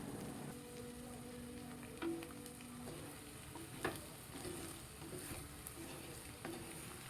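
Beef fry with curry leaves stirred in a pan, a steady close sizzle with occasional spoon scrapes and taps.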